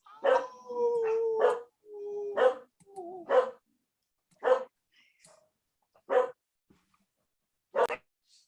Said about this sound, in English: her dogs are barking loudly in the background